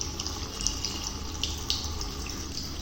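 Tap water pouring steadily onto a head during a hair wash for bonded hair, a continuous close splashing rush with a few brighter splatters.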